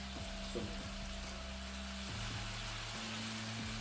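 Onions fry in a kadai for lamb kadai, a soft, faint, steady sizzle sitting under a low, constant hum, with a few light clicks scattered through.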